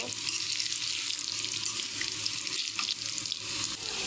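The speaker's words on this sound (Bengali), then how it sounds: "এখন দিয়ে দিচ্ছি আমি কালো জিরা। কালো জিরাটা এর সঙ্গে একটু ভেজে নেব।" Black cumin seeds hiss in hot oil with already-fried garlic and onion, a close, steady sizzle that runs evenly through the whole moment without any voices.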